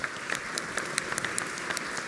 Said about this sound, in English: I think that Sam deserves a roaring round of applause.